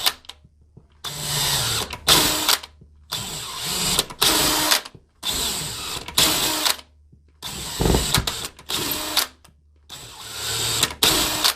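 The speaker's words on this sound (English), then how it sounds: "I'm just going to go ahead and put my deck screw in" A power drill drives a deck screw into a wall in repeated short bursts of whirring motor, each burst about a second long with brief pauses between.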